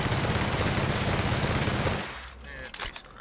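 Rapid automatic gunfire from a weapon in the video game The Outer Worlds rattles loudly for about two seconds in a dense burst, then cuts off into quiet with a few faint game sounds.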